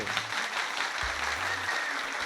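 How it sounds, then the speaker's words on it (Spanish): Applause for baseball Hall of Famer Pedro Martínez, a steady crowd clapping wash lasting the whole moment, with a low tonal hum underneath and no talk over it. "Un aplauso para Pedro."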